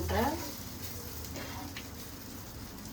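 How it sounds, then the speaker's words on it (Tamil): An egg sizzles and fries in a pan in a home kitchen, a constant crackling hiss following a brief voice at the start. "முட்டை ஃப்ரை பண்ணுறேன்"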